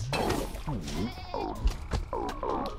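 A goat in Peggle 2 bleats repeatedly in quick wavering cries, several short loud calls in a row with brief thumps between them.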